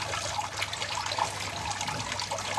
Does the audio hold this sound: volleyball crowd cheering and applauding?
no